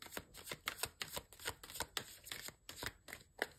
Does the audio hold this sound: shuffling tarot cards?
yes